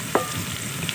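Ginger garlic paste frying with onions in a pan, a steady close sizzle with a brief stir or clink near the start, no talking.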